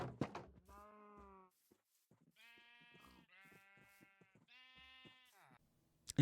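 Sheep in the Minecraft video game bleat in several separate wavering calls, clear and fairly close, with short pauses between them and no talking.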